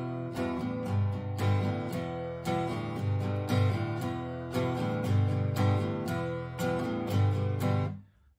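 A guitar strums the repeating two-chord opening riff of a song in a steady rhythm, each chord ringing clearly before the final strum fades out.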